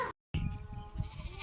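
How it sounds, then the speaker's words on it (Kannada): A three-day-old calf calls out in a village cowshed with its mother cow nearby: after a brief dropout, a close, plaintive bleat-like cry carries on for about a second. "ಎಷ್ಟು ಕ್ಯೂಟಾಗಿದೆ, 3 days ಕರು ಇದು."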